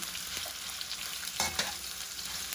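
Two large onions sautéing in a pan for Filipino beef steak, a steady sizzle with faint stirring scrapes and a brief louder clatter midway, close and continuous with no talk.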